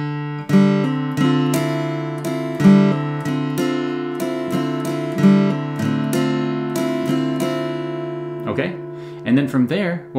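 Acoustic guitar strums the opening measures of a song, picking up and down across the thinnest three strings in a steady rhythmic pattern, close and clear, with a few brighter accents near the end and no talking.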